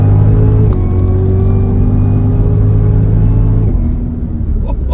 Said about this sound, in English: You can hear the supercharger.